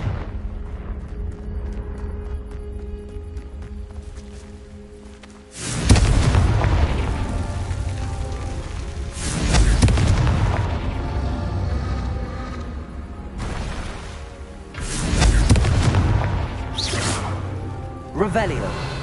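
Confringo fire spells explode in the Hogwarts Legacy video game, three heavy booming blasts spaced several seconds apart, each with a rushing burst that rumbles and then fades.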